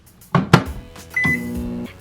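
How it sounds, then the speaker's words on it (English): A microwave oven heating Vaseline in Dixie cups: door and button clicks, then a beep and the start of the appliance's steady hum, close and clear. "We're going to take this and we're going to microwave it for 30 seconds."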